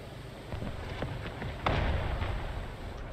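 A tank gun fires in the War Thunder video game, a heavy blast with a sharp boom near the middle and softer thuds around it, over a low rumble of battle.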